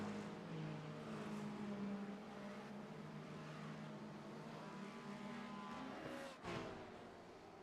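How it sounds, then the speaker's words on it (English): GT3 race cars roar in a racing video game endurance event, a sustained engine whine with shifting pitch as cars pass close by, loud and continuous with no talk. "Battles in GT3 rage on."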